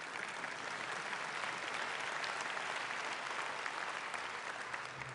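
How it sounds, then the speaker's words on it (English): Dense applause rolls through a crowd at a political leader's dinner in Regina, Saskatchewan, a steady even clapping wash heard from a distance without speech. "Yeah, you can clap for that."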